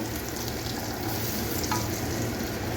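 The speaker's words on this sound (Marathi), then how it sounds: "आता हे आपल्याला तेलामध्ये चांगले परतून घ्यायचे आहेत।" Potatoes frying in hot oil for dum aloo gravy, giving a steady, dense sizzle that stays even and close throughout, with no voices over it.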